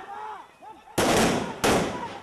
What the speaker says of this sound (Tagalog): Pero kalat-kalat ang putok.